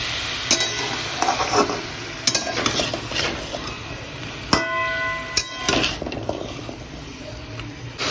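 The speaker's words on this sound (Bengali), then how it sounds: "তেলের মধ্যে একটু সর্ষের তেল অ্যাড করবো এখানে কালো জিরে একটু ফোড়ন দেবো" Black cumin seeds tempering in hot mustard oil for a katla fish curry, a steady close sizzle and frying crackle with sharp metallic clinks of a utensil against the pan.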